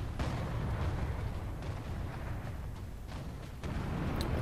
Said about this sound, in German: Das war wohl die große Kanone.